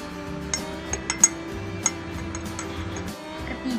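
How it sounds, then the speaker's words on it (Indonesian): A spoon stirs starch into water in a glass, giving light, irregular clinks and taps against the glass over a steady low hum, close and fairly quiet. "Lalu aduk ketiga air tersebut."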